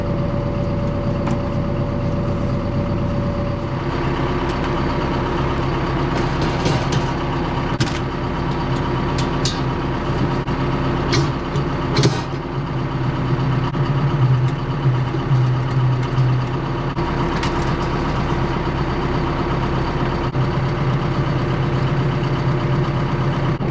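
A farm tractor with a broadcast spreader hitched behind idles with a low, steady diesel rumble, then revs slightly as it pulls forward, with occasional clanks and knocks of the implement, heard close and continuous.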